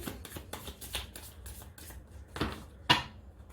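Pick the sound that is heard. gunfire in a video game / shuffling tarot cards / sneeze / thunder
shuffling tarot cards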